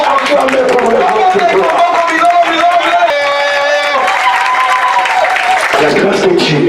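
Church congregation at a Congolese worship service applauding and cheering for the Lord, a dense, steady wash of clapping and crowd voices with some musical tones running underneath.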